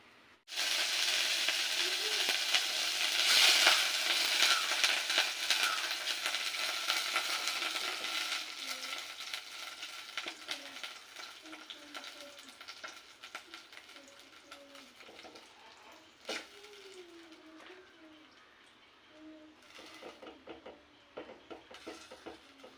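Steady crackling sizzle of butter melting in a hot pot while making ghee, loudest early then easing slightly, with faint bird calls in the background.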